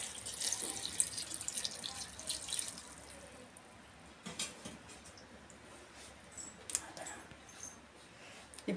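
Water pouring into a cooking pot of chopped vegetables and turmeric for sambar, a steady splashing run at moderate level with a few brief gaps and louder gushes partway through, no talk.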